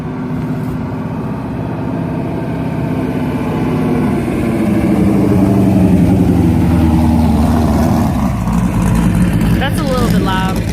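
A car engine runs loudly nearby with a steady, rough mid-range hum that swells into a rev partway through before settling, at a gathering of exotic cars; a voice briefly cuts in near the end.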